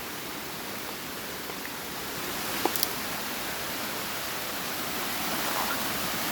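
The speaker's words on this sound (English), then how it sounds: "More nice waterfalls." Waterfalls on a flooded creek, a steady, close, full rush of falling water with a brief splash or knock midway, no voices.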